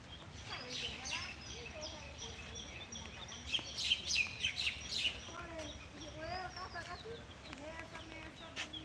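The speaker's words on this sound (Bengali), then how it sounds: "এই পাখিরা কিন্তু বাইরে চলে এসেছে এবং তার যে সঙ্গী সাথে তাদের কিন্তু ডেকে এক জায়গায় করার চেষ্টা করছে" Birds in a rural village after rain chirp and call to each other in quick, repeated bursts, fairly close but quiet against a soft background.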